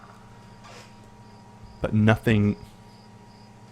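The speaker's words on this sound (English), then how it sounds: "crickets chirping" Crickets chirping in a forest night ambience, a faint steady insect drone in the background, with someone speaking briefly over it.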